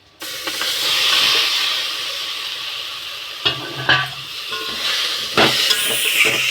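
Chopped tomatoes tipped into a hot pan of oil with spices for pepper rasam, setting off a loud, steady sizzle and hiss with a few clinks of stirring.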